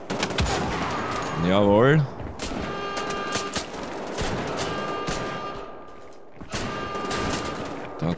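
Gunfire in the video game Wolfenstein: The Old Blood on PS4: several sharp shots crack in irregular bursts across the scene, with a voice speaking briefly among them.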